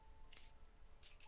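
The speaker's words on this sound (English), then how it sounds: "I've been playing with a butterfly knife like this entire stream." Butterfly knife flipped by hand, a few crisp metallic clicks in two brief bursts, fairly quiet against a low background hum.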